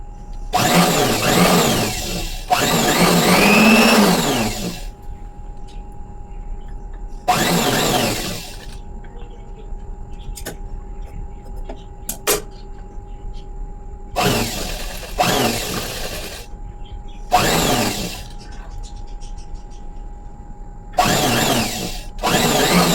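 Sewing machine stitching cloth in a tailoring class, running in several loud bursts of a few seconds each, separated by quieter pauses with faint background hum.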